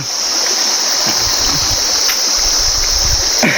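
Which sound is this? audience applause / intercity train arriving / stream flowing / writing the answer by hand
stream flowing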